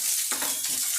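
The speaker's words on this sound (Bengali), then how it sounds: "পেঁয়াজ কুচিটা দিয়ে দিলাম।" Chopped onion hits hot oil in a pan and sizzles loudly and steadily, a dense, close frying hiss with brief stirring swells and no voices.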